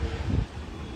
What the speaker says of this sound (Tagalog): Tapos ang hangin eh.